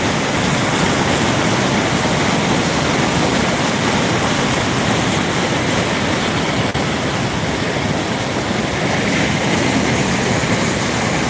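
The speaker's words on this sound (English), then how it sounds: "that water sounds amazing" Water rushes from an overflowing reservoir in a loud, unbroken roar. The broadband torrent holds steady and close throughout, with no voices over it.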